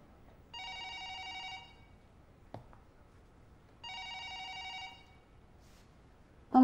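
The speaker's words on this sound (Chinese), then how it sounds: "帮忙接个电话" An office telephone rings in two long electronic trill bursts with a pause between, clear and moderately loud against a quiet room.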